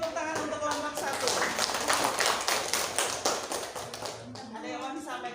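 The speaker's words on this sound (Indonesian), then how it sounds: "tepuk tangan untuk kelompok 1" A school class applauding a presentation group, quick rhythmic hand claps from a roomful of students, close and lively, easing off near the end as voices come in.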